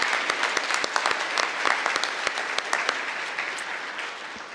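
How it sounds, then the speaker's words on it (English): Steady round of applause from a conference audience at a closing-remarks session, dense clapping filling the room for several seconds at moderate level. "just a quick round of applause for all of the hard work"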